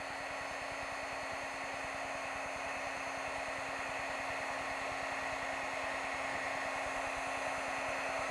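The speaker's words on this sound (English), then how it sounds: "we take, again, the Precision Hot Tool" A Precision Hot Tool heat gun blows steadily and loudly while heat embossing a stamped image, its fan hiss and motor hum continuous and close with no talk.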